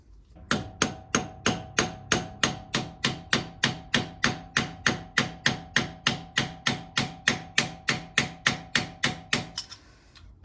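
A hammer strikes an axle into place on a 2003 Subaru WRX bugeye, about two dozen evenly spaced metallic blows ringing close and loud, then stopping.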